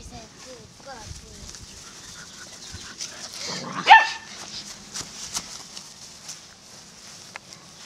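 Puppies yip, bark and whimper at close range amid people talking, with one louder bark standing out in the middle and smaller yelps scattered around it.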